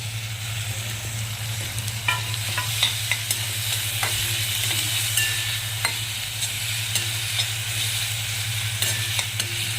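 Chopped capsicum and other vegetables sauté in a pan for a sweet corn dish, a soft continuous sizzle under a low steady hum, with scattered spoon scrapes and taps against the pan and no talking.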